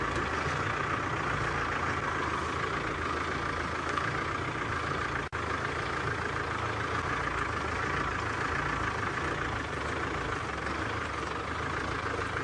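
A safari vehicle's engine idles nearby, a steady low rumbling drone that holds evenly throughout, with one brief click partway through and no voices.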